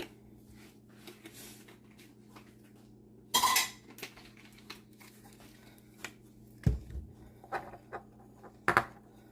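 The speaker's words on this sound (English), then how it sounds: "Got a little crazy with the stirring there." Utensil knocking and scraping in a bowl while stirring 7-Up pound cake batter, quiet scrapes punctuated by a few sharp clinks against the bowl's side, close by with no talk.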